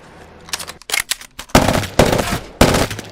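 Loud, close automatic gunfire in Apex Legends, first scattered short bursts, then longer sustained sprays with brief gaps between them.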